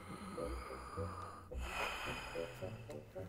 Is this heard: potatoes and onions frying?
no